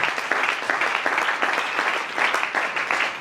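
Church congregation applauding during a French-language wedding sermon, steady dense clapping that holds at an even level throughout the short stretch.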